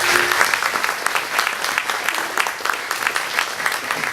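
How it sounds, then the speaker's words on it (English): Audience applause fills a dinner event honoring aviation legends at Sun 'n Fun, a loud, sustained round of many hands clapping close by, steady throughout with no talk over it. "a nice round of applause for Florence."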